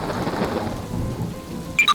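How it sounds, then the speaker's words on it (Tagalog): Steady heavy rain pours throughout, with a low rumbling of thunder beneath it and a few sharp, close crackles of lightning near the end. "Bumuhos ang ulan at malakas ang kulog at kidlat."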